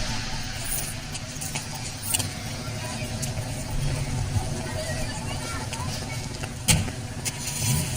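A car engine turning over and catching in a French action film scene, a steady low rumble running throughout with brief louder bursts under a dense film soundtrack.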